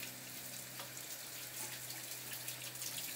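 Tap water runs steadily into a kitchen sink as hands are washed with soap, a soft continuous splashing hiss at low level with no voices.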